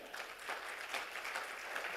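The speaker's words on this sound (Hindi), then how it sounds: "जोरदार तालियां" At a corporate program, the audience claps for the chief guest, a government minister, in a brief, even burst of dense applause that sounds moderately distant, with no talking over it.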